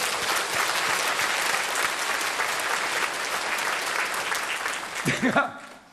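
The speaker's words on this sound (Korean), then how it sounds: "별건 아니지만 우리 잘한 선수들을 위해서 박수 한번 쳐요." A church congregation applauds in a thick, sustained wash of many hands clapping, loud and steady for several seconds before it fades and a voice begins to speak.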